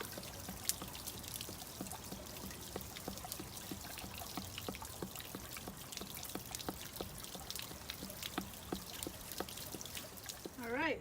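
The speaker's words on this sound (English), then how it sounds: "that thing's draining out. I want to say it's 5 or 6 gallons of water" Water drains from the tank of a Casita travel trailer, a faint steady pouring trickle with scattered drips, about five or six gallons running out.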